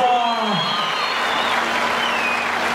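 Rodeo crowd applauding after a bull ride, a dense steady wash of clapping close and loud throughout, with a voice briefly sliding down near the start.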